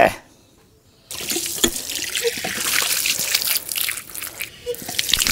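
Water runs from a tap as an ash gourd is washed, a loud, close splashing flow starting after a second of near silence, with occasional rubbing and knocks.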